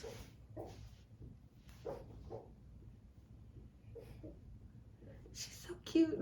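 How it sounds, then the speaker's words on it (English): A sleeping dog dreams and lets out soft, muffled little barks and yips in scattered short bursts, faint and close, between quiet breathing. "I just wonder what she's barking at in her dreams."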